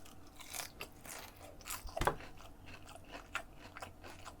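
Crunchy fried whole shrimp, dipped in habanero sauce, is bitten and chewed close up, giving a sharp crunch followed by a run of soft, irregular chewing crackles.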